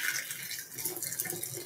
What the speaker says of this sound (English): I'm going to put some hot water in there.